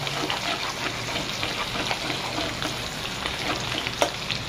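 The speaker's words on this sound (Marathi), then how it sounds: "आता आपला तेल गरम झालेला आहे। सर्वप्रथम आपण टाकणार आहे लसूणला चांगली भाजून घ्या" Garlic sizzling and frying in hot oil in a pan for a Konkani masala chicken recipe, a steady close crackle with occasional sharper pops and stirring, with no one talking.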